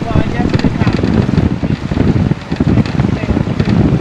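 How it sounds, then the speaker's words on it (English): Heavy wind buffeting the microphone outdoors while sailing at sea, a loud continuous low rumble and roar, with a voice speaking faintly underneath. "It's hard to hear with all the wind noise and stuff, but that's sailing."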